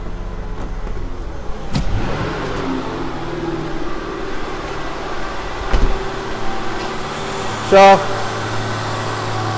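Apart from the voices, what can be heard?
Ford Escape engine with a high idle not returning to normal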